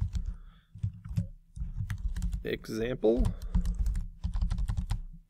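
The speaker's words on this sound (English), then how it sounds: "typing is hard today." Rapid clicking keystrokes on a computer keyboard rattle close by in irregular bursts, continuing under a man's brief speech.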